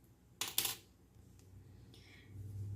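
Scissors snipping crochet thread while finishing a baby sandal, heard as two quick sharp metallic clicks close by in the first second, followed by quiet background noise and a faint rustle.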